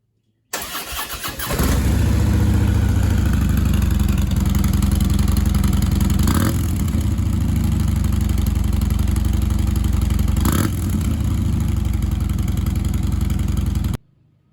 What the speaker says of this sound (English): I'm going to let you hear what it sounds like with the stock exhaust first.